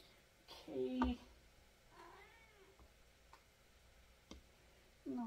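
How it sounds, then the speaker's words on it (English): A pet cat meows in a kitchen during tangerine canning, a couple of short, moderately loud cries with faint ticking and quiet background between them. "Oh, can you hear my kitty?"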